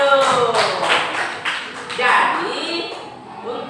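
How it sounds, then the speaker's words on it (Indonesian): Students in an Islamic religious studies classroom clap their hands together on the teacher's request, a loose burst of claps mixed with children's voices and chatter throughout. "silakan tepuk tangan dulu."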